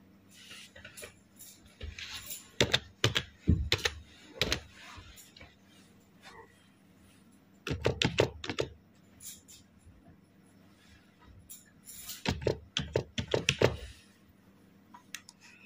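Bursts of quick plastic clicks from a computer keyboard while an IFSC code is typed into a PNB net banking form, close and crisp, in several separate runs with pauses between them.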